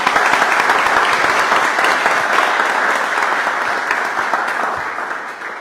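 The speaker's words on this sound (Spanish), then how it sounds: "yo le pido es un aplauso a los señores vocales, a nuestros compañeros de la universidad" A crowd applauds at the signing of an agreement between the parish government of Shell and the Universidad de Milagro. Clapping is strong and dense from the start, then eases slightly toward the end.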